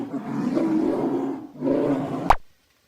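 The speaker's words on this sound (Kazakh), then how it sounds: "Аю ақырады." A bear roars once, loud and close, in a long rumbling growl that fades briefly and swells again before ending in a sharp rising cry, then silence.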